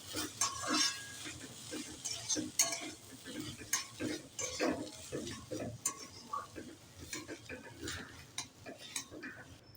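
Egg chow mein noodles being stirred in a pan, with repeated close scraping and clattering of a utensil against the pan over a soft background sizzle in an irregular rhythm.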